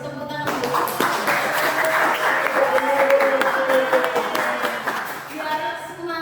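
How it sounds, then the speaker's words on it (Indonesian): Classroom of students clapping for a mathematics lesson, a burst of applause that swells and holds for several seconds before tapering off, with voices mixed in near the end. "Tepuk tangan dulu."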